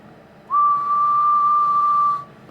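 A single steady whistled tone goes into the microphone of a Uniden PC68LTX CB radio, clear and held at one pitch for nearly two seconds against a faint background hiss.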